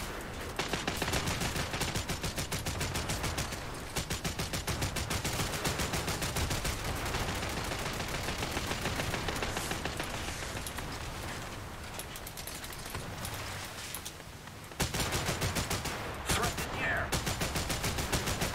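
Rapid machine gun fire from a small boat in the naval combat game War Thunder, sustained bursts running almost continuously with a brief break near the end.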